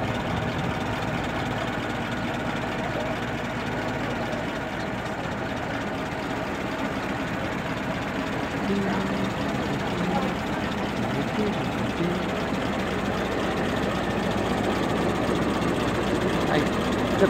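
A brass-era Ford Model T engine idles in a steady, low, continuous rumble throughout, while people talk over it.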